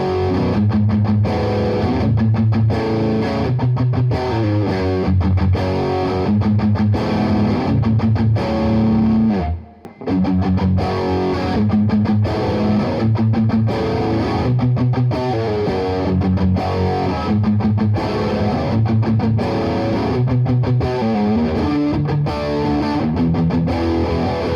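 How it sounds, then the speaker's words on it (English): Distorted guitar playing through a Buffalo FX Reticon Flanger pedal set to a slow, sweeping flange that swirls steadily throughout, between flanger and chorus, with one brief drop-out midway. "By pulling the rate down and turning it into a slow flange, it's somewhere between a flanger and a chorus"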